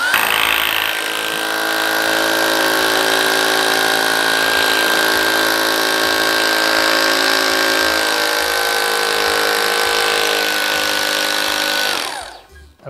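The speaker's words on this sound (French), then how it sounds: "on fait un trou directement au travers et du tasseau et du béton avec le marteau" Hammer drill boring a hole through a wooden batten into concrete makes a loud, steady whine and rattle for about twelve seconds, then winds down abruptly.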